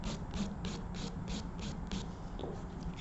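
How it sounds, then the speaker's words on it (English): An abrasive board files an acrylic nail enhancement made from monomer liquid and polymer powder, giving a soft, rhythmic scratchy rasp of about seven long, even strokes repeating roughly every quarter second, close and quiet. "So long strokes. Use all your file."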